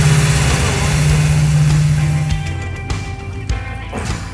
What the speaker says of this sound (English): Motor sounds insane.